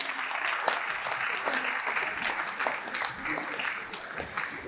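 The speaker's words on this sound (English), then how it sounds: "Can we get a loud round of applause?" Steady round of audience applause at a school graduation celebration after a Bharatanatyam dance, a dense wash of clapping that continues evenly throughout, with some faint voices underneath.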